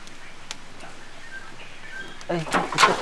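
Birds chirp faintly in the background with short, thin calls scattered through a steady ambient hiss, before people begin talking over them toward the end.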